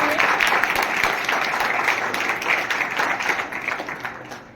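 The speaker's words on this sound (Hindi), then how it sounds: "जोरदार ताली बजाएं।" Dense, sustained clapping from a large crowd fills a school hall during a youth dialogue event at Ramdev Vidyalaya in Ramdevra, Jaisalmer, starting loud and slowly easing off toward the end.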